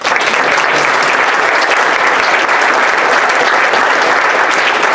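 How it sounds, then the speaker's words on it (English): Audience applause for panelists at a Lockheed Martin manufacturing careers day, a dense steady wash of many hands clapping, loud and sustained throughout with no voices over it. "I want again a round of applause for our panelists"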